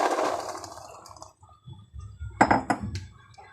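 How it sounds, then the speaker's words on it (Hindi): Chickpeas tipped into a bowl for chana chaat give a rattling clatter at the start, then a few clinks and knocks against the dish, close and fairly loud with no talking. "तो सबसे पहले हम इसमें चने शामिल करेंगे।"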